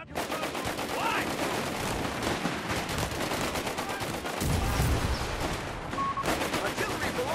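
Artillery barrage and gunfire in Company of Heroes 3, set at Monte Cassino in the Italy campaign: dense rapid bursts of shots and explosions rattle on continuously, with a heavier booming blast midway.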